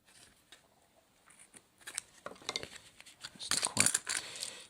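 A blade cutting out a small model railway building part by hand: quiet, irregular snipping and scraping scratches that grow busier and louder toward the end, with soft talk in between.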